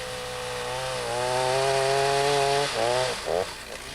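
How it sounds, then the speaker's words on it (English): Chainsaw making an open face cut to fell a tree, a loud steady buzzing whine that rises in pitch as the blade bites the wood, then dips and stutters near the end. "The proper technique for felling a tree calls for first making an open face cut."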